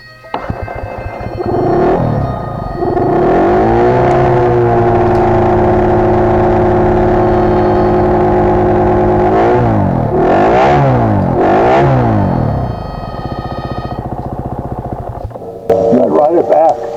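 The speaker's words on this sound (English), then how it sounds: "I figured I would just try to stay on the throttle and not let it die" An off-road motorbike engine, apparently with a clogged fuel injector, is held on the throttle out in the desert, droning loudly and steadily with rising and falling revs and several wavering pitch swoops before a rough sputter at the end.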